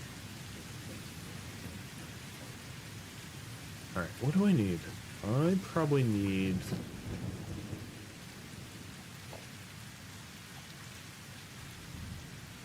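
Steady rain hiss with rumbling thunder in a video game, continuous and moderately loud throughout, while someone talks over it in the middle.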